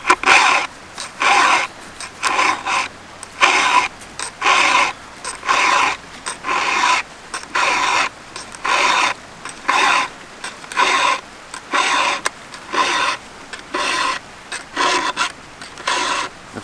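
Hand file rasping across chainsaw chain teeth, a steady series of about twenty close, even scraping strokes, each followed by a short pause, with no talk.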